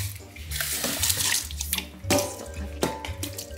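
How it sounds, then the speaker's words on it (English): Tap water runs from a faucet into a small cup at close range, a steady splashing pour with a couple of brief surges and clinks, no talking over it. "Small cup. All right, put some water in it."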